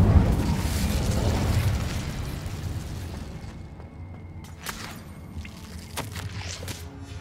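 A fire spell, Incendio, bursts in Hogwarts Legacy with a loud roaring whoosh of flame that fades over several seconds into quieter crackles and small pops.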